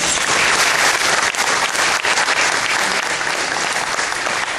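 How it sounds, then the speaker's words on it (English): A church congregation gives a choir sustained, loud applause, with steady clapping from start to finish. "Let's give them a round of applause."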